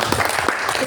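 Church congregation clapping together during a Sunday worship service, a short burst of steady rhythmic applause with voices mixed underneath.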